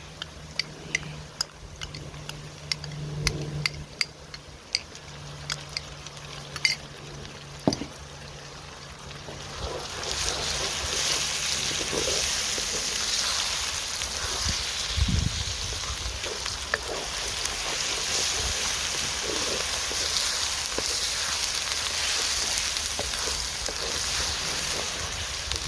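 Ginger and garlic paste frying in a pan with lamb and ghee for lamb salaan, a steady close hissing sizzle that rises sharply after a quieter stretch of light ticks and clinks, with no talking.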